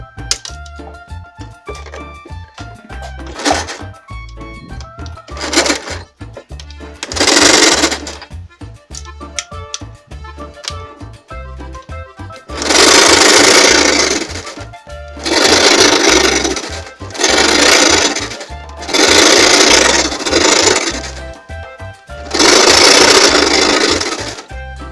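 A sewing machine stitches pinned patchwork quilt pieces together for a sublimated quilt, running in loud, close bursts of several seconds each with short pauses between them and no talk over it.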